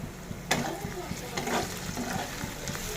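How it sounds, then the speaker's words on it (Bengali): Onions frying in a pan for birista, a steady close sizzle with occasional stirring scrapes and clinks running throughout, no voices. "পেঁয়াজটা বেরেস্তা করে নিচ্ছি"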